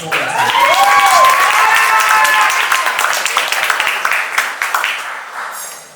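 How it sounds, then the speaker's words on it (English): An audience at a startup pitch competition claps for a presenter taking the stage, a brisk burst of applause with a few whoops that thins into scattered claps, while a voice briefly sounds over the start. "She's up. Give a clap."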